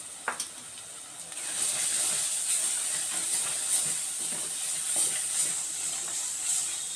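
Garam masala, salt and turmeric sizzle steadily in a hot pan, a bright continuous frying hiss with occasional stirring scrapes, heard up close and alone.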